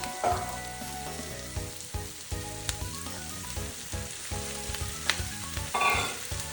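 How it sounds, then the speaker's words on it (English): Diced potato hits a hot pan for chickpea curry, crackling and sizzling close by with stirring scrapes and clinks, a busy frying hiss throughout and no talk. "And next I'm going to add the diced potato"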